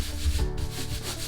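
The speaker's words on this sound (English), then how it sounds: "So I'm going to rub it so I can cool it." Transfer paper is rubbed by hand over a bleached t-shirt, producing a short, close, steady scuffing swish with no speech.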